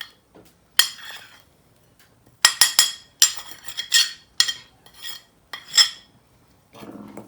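Dry ingredients for fried chicken mixed in a bowl, bursts of metal spoon scraping and clinking against the bowl separated by short pauses, close and alone.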